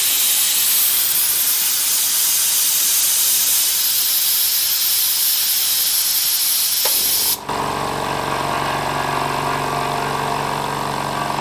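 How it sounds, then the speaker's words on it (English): An oilless air compressor loudly hisses as air is released for about seven seconds, then its motor cuts back in with a steady mechanical drone and rattle. "So I'm going to relieve air now. It'll take a few seconds or so, and then you will hear the machine cut back in."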